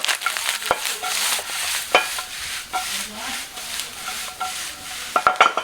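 Stir-fried pork cracklings with chili, egg and sliced green onion are tossed in a hot pan, producing a continuous loud sizzle broken by rhythmic scraping and clattering tosses, with sharper metallic hits at the end.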